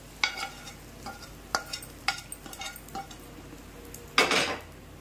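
Fried ingredients are mixed into mango rice in a pan, giving close, irregular scrapes and clinks of a utensil against metal, with a louder scraping stir near the end.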